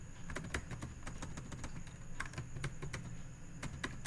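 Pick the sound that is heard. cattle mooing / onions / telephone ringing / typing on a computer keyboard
typing on a computer keyboard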